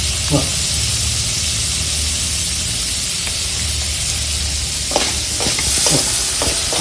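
A spoon stirs a paneer filling seasoned with paneer tikka spice in a hot pan, making a constant frying hiss. Clustered scraping and clicking strokes come in near the end.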